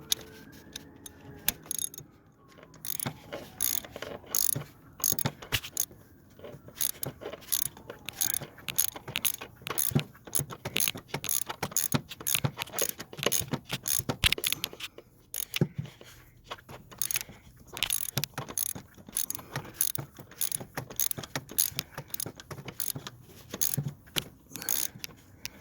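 Hand ratchet clicking in quick, irregular bursts while turning the oil sending unit on a 2001 Chevy Suburban, close and fairly loud, with no talk.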